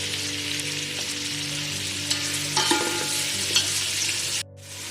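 Onions frying in a pan with a little salt produce a steady, dense sizzle, with occasional stirring clatter near the end before the sound suddenly drops away.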